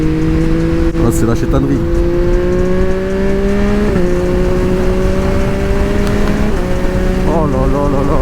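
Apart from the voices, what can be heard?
Yamaha MT-09 SP three-cylinder motorcycle engine revving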